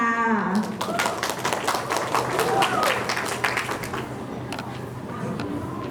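Audience applause for the final contestant at a luk thung music award show, steady dense clapping from a crowd lasting several seconds, with a host's voice faintly over it.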